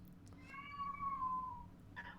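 A single drawn-out meow from a cat across an apartment, faint and distant, with a quiet room hum underneath.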